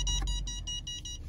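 Rapid run of short electronic beeps from a Mercedes Parktronic parking sensor, evenly spaced over a low rumble and a brief thump near the start, with no one talking.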